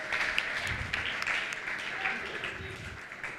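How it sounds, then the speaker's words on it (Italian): An audience in a sports-show studio claps for a group of youth football school kids, a moderate, continuous patter of applause with some speech mixed in. "fatevi un applauso da soli"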